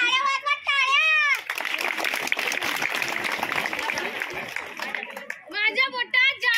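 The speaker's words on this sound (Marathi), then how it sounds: "टाळ्या वाजवा, टाळ्या." An audience at a Durga Devi temple fair bursts into sustained clapping for several seconds, with a voice speaking just before and after.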